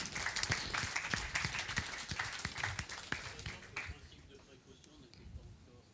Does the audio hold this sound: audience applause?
yes